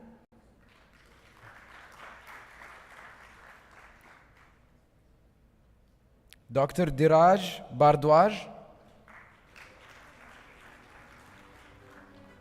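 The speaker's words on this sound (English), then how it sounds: "You guys are going to clap a lot" Scattered applause from a conference audience at a desalination event, two soft stretches of clapping separated by a host's voice announcing a name over a microphone.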